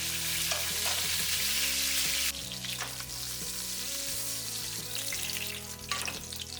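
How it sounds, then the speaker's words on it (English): Pork spare ribs sear in a hot pan with a loud, continuous sizzle and crackle, alongside a low hum from the stove. "and sear the rest of the batch."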